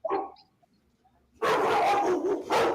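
A dog gives a short yip, then after a pause breaks into a burst of loud, close, rapid barking.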